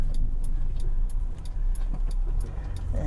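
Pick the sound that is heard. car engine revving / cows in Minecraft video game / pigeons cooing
car engine revving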